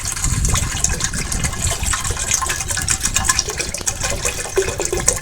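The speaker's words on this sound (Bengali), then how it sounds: "প্রেশার কুকারে এখন আমি পানি দিয়ে দেবো" About a kilogram of water is poured into a pressure cooker while steaming koi fish, making a steady, close gushing splash that runs unbroken for several seconds with no voices.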